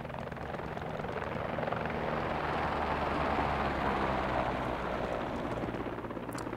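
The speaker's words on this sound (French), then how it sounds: "regarde comme c'est beau les deux hélicos là" Two military helicopters in the game Squad drone steadily with a dense, continuous rotor roar that holds loud and even throughout, with no talking.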